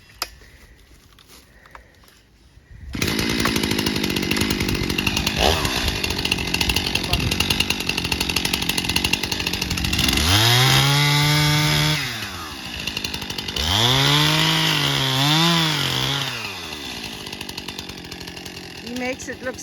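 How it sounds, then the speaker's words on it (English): A chainsaw cutting up big logs: after a quiet opening, the engine bursts in loud and close, holding a busy drone and then rising into two strong revving surges as the chain bites through the wood. "they're going to be cutting up some of those big logs"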